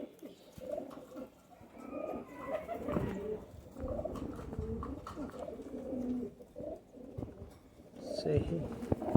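Kasuri high flyer pigeons coo continuously at close range, their low throaty rolls overlapping in steady waves with faint rustling from handling.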